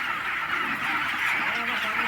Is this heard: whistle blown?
no